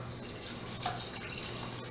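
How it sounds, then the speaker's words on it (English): Cool tap water running into a pot of rice, a soft steady stream with light splashing and trickling, quiet and close, no voices. "I'm just going to add regular cool water."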